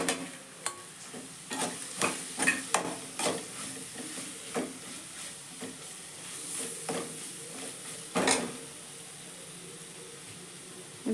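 Okra (lady's finger) sizzles gently in a pan while a spoon stirs and scrapes it in irregular taps and clanks, close and moderately quiet, with one louder clatter near the end.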